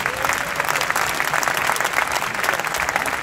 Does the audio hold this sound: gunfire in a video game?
no